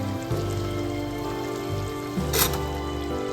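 Butter goes into a hot pan of golden shallots, setting off a soft steady sizzle with a brief brighter hiss near the end, close and moderate in level, no voices.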